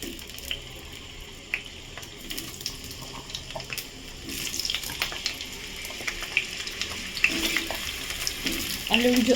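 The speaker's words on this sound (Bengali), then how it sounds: "তেল দিয়ে চিকেনের আলুগুলো ভেজে নেব" Potatoes fry in mustard oil in a wok for chicken curry, giving a steady crackling sizzle with scattered pops and a stirring scrape or two. The frying grows louder and busier in the second half.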